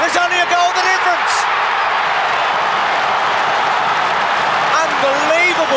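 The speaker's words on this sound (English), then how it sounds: "The crowd's erupted" A packed stadium crowd at a 1991 Australian football match between Essendon and West Coast roars loudly and continuously after a goal, a sustained wall of cheering with a commentator's voice running over it.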